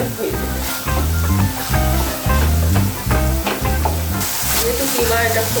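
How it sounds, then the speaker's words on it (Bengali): Chicken keema sizzles loudly in a pan while being stirred and fried for mughlai paratha, with a steady crackle that swells in rhythmic pulses as the spatula moves. "এটা এখন আমি ভালো করে কষিয়ে নেব, ভাজা ভাজা করে নেব"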